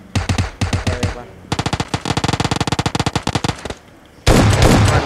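Rapid automatic gunfire from a shooting video game rattles in several loud bursts, one long steady stream of shots, then a pause and a final noisy blast.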